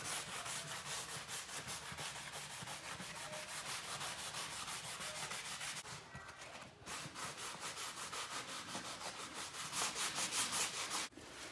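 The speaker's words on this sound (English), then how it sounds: "And then I'll sand it a little bit." Steady hand sanding of a wooden baseboard near a scarf joint splice, a continuous rhythmic rasping scrub of abrasive on wood with a brief pause partway through, close and fairly loud.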